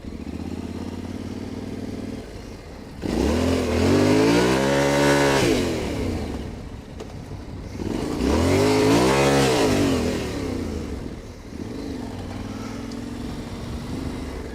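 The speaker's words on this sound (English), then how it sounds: "I'll work the clutch and give it some gas" Yamaha Tenere 700 adventure motorcycle revving hard while drifting, two loud rising-and-falling throttle bursts close by between lower idling stretches, no talk.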